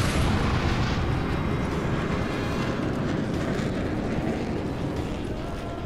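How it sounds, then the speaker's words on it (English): Airstrike explosions in the military shooter Ghost Recon Advanced Warfighter 2, a loud, sustained, roaring blast rumble that fills the scene and slowly fades slightly, with no voice over it. "Okay, airstrike on the way."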